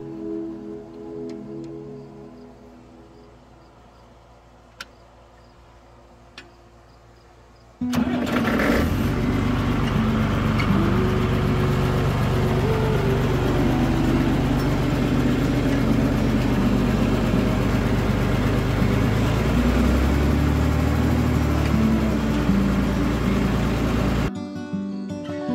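A John Deere 2840 utility tractor engine starts after a quiet lull and then runs loud and steady for well over a dozen seconds, a deep continuous diesel drone that cuts off near the end.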